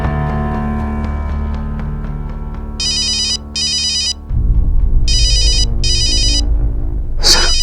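Phone ringtone sounding after a traced number is dialed, loud electronic trilling bursts in short repeated pairs over a sustained tonal music bed, ending with a brief sharp sound.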